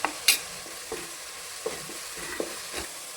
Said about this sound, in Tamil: கொஞ்சமாக இஞ்சி பூண்டு பேஸ்ட், இதை எண்ணெய் பிரிஞ்சு வரட்டும்